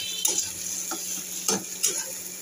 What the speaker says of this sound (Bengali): পেঁয়াজটা ভাজছি